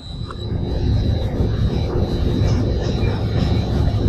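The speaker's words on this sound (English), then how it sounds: "That's that non-return valve starting to flap as we start taking steam out of the boiler drum." A boiler non-return valve hammers as steam is drawn from the boiler drum during startup, a rough continuous roar with faint irregular knocking beneath the broad rushing noise.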